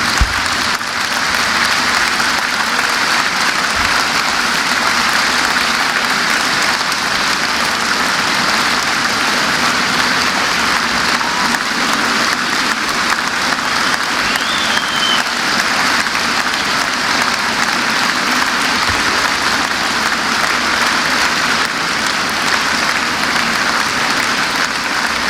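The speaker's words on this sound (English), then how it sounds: "Another warm round of applause" A large lecture audience gives sustained, loud applause after the Nelson Mandela Annual Lecture, a thick continuous wash of clapping that holds steady for about twenty-five seconds.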